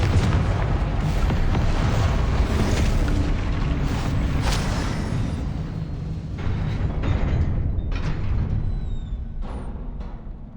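Confringo blasting spell explosions in the game Hogwarts Legacy: a continuous loud, rumbling roar of booms and bursts that gradually thins out toward the end, with no voices.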